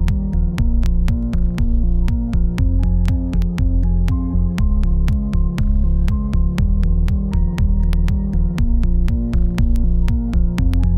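A dreamy piano-like synth patch plays a steady, mellow sequence of soft-attack notes with sustained warm tones and little high-end brightness, heard alone and filling the whole stretch at an even level.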